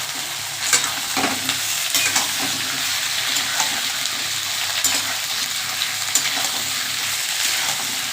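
Chopped onion and crushed garlic frying in a pan for a prawn curry with potato and pumpkin, a loud steady sizzle broken by repeated scraping strokes of a spatula stirring, close up and without voices.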